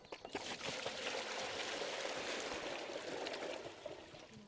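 Fifteen litres of water pour into a container for seed treatment, a steady gushing, splashing flow heard alone at low volume for several seconds.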